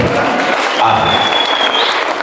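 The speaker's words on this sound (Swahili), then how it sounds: "Pigieni JCM makofi" A church congregation claps in a dense, sustained burst of applause filling the hall, with a few voices and a faint whistle mixed in.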